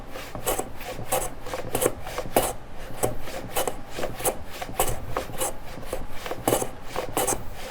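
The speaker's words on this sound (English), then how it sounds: "And then I can come in and start hand planing, or shooting, whatever you want to call it." Hand plane shaving wood for a paper towel holder, a steady series of short rasping strokes in a quick, even rhythm, close and moderately quiet, with no talk.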